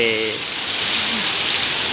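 Heavy rain pours in Goa as a steady, full rushing hiss of drops on surfaces, with a voice speaking briefly at the very start.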